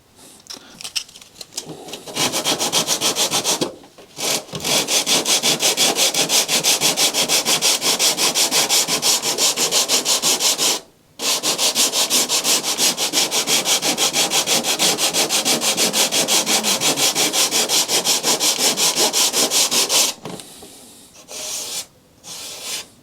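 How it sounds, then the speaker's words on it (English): A small hand-held sanding block is rubbed back and forth over the surface of a crashed Extreme Flight Laser EXP v2 model plane during repair. The rasping is loud and steady, with two brief pauses and a few shorter strokes at the end. "I'm going to wrap that around the smaller surface to give me a smaller block to sand with."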